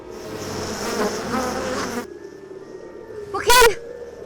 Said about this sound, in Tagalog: Ang laking bubuyog!